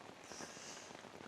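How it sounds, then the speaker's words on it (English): Steady rain pattering on a tent, a soft continuous hiss of drops heard from inside, quiet and even throughout. "You can probably hear it's raining."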